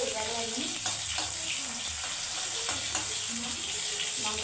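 Chillies fry in oil in a pan, giving a continuous close sizzle and crackle with occasional stirring scrapes throughout.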